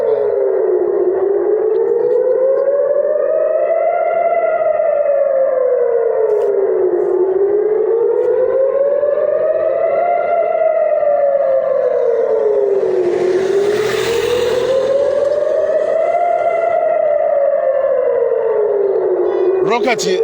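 Civil defense air raid siren wailing in Israel, rising and falling in long slow cycles, loud and steady, with a short burst of noise partway through.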